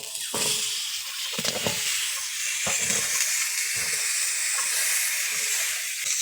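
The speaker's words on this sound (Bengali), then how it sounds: "এখানে প্রথমে কেটে রাখা মিষ্টি আলু এবং গোল আলুটা দিয়ে দেব কড়ায়" Cut sweet potato and potato pieces tipped into a hot wok, setting off a loud, continuous sizzling hiss that holds steady throughout, with a few knocks and clatters early on.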